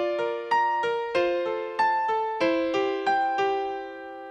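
Solo piano plays the vamp of a pop song as evenly spaced broken chords, outer notes then the middle one, each struck note ringing and decaying in a steady repeating rhythm, close and clear with no voices.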